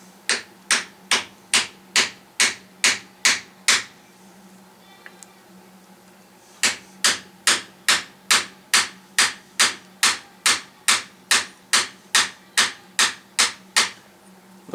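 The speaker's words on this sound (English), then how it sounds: "I'm knocking the housing down over the plunger." A hammer driving a socket knocks the treadle pedal housing down over the plunger on a 1968 GMC water truck: two runs of sharp, evenly spaced metallic taps, close and fairly loud, separated by a short pause.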